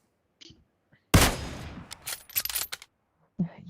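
Rapid bursts of gunfire in the mobile battle-royale game PUBG Mobile, a loud sustained volley followed by several sharp separate shots, then a short pause and one more shot.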